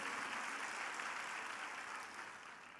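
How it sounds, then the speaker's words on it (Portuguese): Worshippers at a Brazilian church service clap in praise, a broad, even patter of applause that starts at full strength and slowly thins out over a few seconds. "Pode aplaudir o Senhor."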